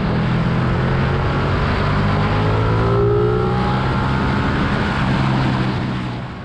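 A 2019 Ducati 959 Panigale twin-cylinder engine accelerates loud and close in one continuous pull, its pitch climbing steadily under heavy wind and road noise.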